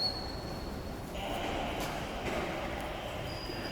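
Quiet, spacious ambience inside a modern subway station, Donggureung station in Korea, with a faint, steady rumble of a train in the background and a few soft high tones. No one speaks.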